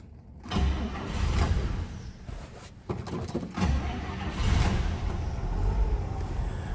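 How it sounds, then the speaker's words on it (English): A 1956 Chevrolet Bel Air sedan engine turns over about half a second in and settles into a steady, close, rumbling idle that continues to the end, with no talk over it. "Let's go ahead and start it up so you can hear it run."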